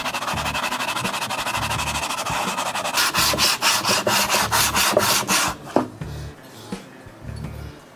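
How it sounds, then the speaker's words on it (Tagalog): Rhythmic back-and-forth scraping of a Yamaha RXT135 engine head being wet-sanded with water and sandpaper on a flat glass surface, steady strokes, close and loud, then slowing to a few separate rubs. "Ipa-flatten natin gamit tong salamin na to. Tapos liha para lang maganda yung seal."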